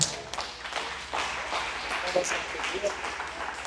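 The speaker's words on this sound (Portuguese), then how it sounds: "Pode aplaudir o Senhor." A church congregation at a Portuguese-language service applauds in moderate, uneven clapping, with voices calling out over it.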